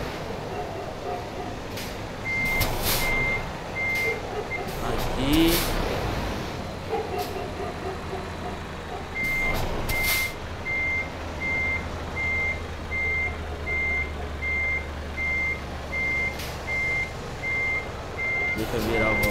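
In Euro Truck Simulator 2, a truck parking its trailer gives off steady, evenly spaced reversing beeps over a low engine rumble. The beeps stop for a stretch, then resume, and someone talks intermittently.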